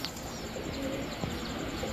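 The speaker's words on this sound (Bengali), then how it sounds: "বাঘা চুইঠাল মুজোওয়ালা একটা মাদি কবুতর" A female pigeon of a patterned, feather-footed fancy breed at a pigeon seller's stall gives soft, low cooing, brief and fairly near, over a busy background hum.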